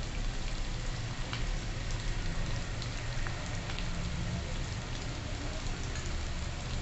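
Potatoes sautéing in a pan for a fasting-day potato dish, giving a continuous, even sizzle that holds steady throughout, close and fairly quiet, with no talking.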